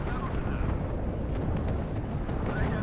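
Heavy artillery barrage in the WARNO real-time war game, a continuous loud rumble of overlapping distant shell impacts and booms, dense and unbroken across the whole stretch.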